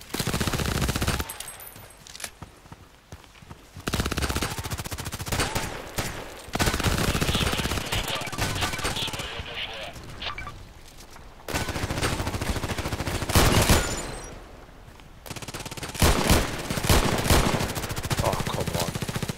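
Python revolver gunfire in the Contract Wars video game, a dense run of loud shots and bursts with short pauses between volleys, continuing through most of the stretch with occasional faint voice underneath.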